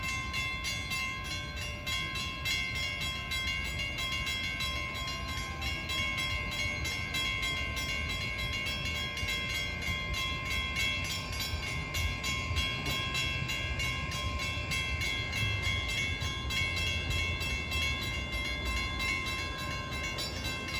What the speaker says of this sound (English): and then you have this third train coming with a fleet of fairly new Kawasaki M9's